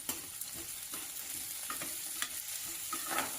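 Beans and vegetables for a mixed vegetable saagu sizzling in a pan, a soft, steady close crackle broken by light, repeated stirring scrapes and taps, with no voices.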